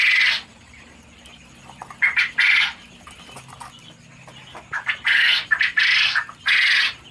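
Male quail give harsh, buzzy calls in short bursts, several overlapping, close by with faint background noise between calls.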